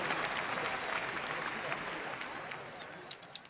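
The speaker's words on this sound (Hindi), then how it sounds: "जोरदार तालियों से उनका स्वागत करें।" A crowd applauding a donor who offered 1001 rupees at a Ram devotional stage event, dense clapping that gradually thins and fades, with a few sharp claps near the end and faint talk underneath.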